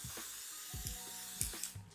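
A can of gold spray is shaken hard in a home kitchen, giving a quick run of rattling knocks from the mixing ball over a faint steady hiss, close up.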